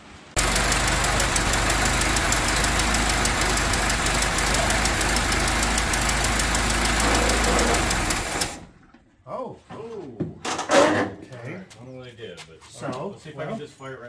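1925 Ford Model T engine running after years of sitting, a loud, steady rattling chug that cuts out abruptly, followed by people talking and faint clunks.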